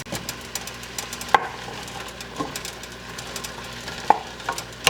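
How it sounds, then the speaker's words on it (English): Vegetables for red pepper soup being stirred in a cooking pan, with soft scraping and a low sizzle underneath, broken by a few sharp utensil knocks against the pan. "I would suggest stirring the vegetables every few minutes, just so we get an even cook time"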